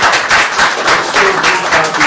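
An audience at a county board of commissioners meeting breaks into steady, fairly loud applause that fills the room throughout.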